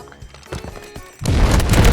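A grenade explodes in the mobile shooter Delta Force, with a loud, sudden burst of rumbling blast noise following a few sharper game impacts.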